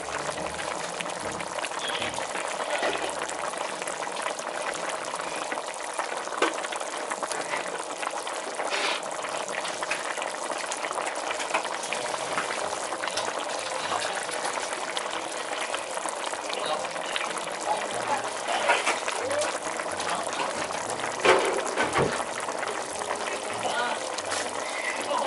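Water is poured into a pot of boiling macaroni soup with chicken cubes, a steady close bubbling and trickling running throughout under a quiet home-kitchen background.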